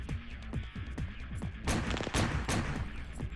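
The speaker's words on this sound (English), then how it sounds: "Assault rifle versus shotgun. Shotgun's going to win that close, that's for sure." Gunfire rings out in the War Inc shooter game, with rapid repeated rifle shots in quick bursts followed by heavier, louder blasts crowding together at close range.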